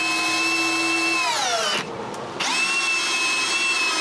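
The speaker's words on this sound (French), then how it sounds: "on peut tout visser ça avec des vis de 20 cm au mur arrière de l'atelier" A power drill driving 20 cm screws into the back wall of a workshop runs steadily at high speed, briefly winds down and pauses, then spins back up and continues loud and close.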